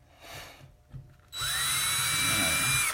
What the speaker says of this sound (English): Now when you're putting your drill in there, you're feeling for that little dent